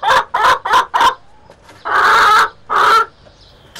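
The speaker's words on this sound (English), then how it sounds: "In Devon, these chickens have got guest house owner Peter Day into trouble." Chickens kept at a guest house in Devon cluck loudly and close by in a quick run of four short squawks, then give two longer drawn-out calls.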